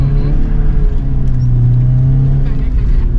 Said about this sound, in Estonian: kuuled autot, noh?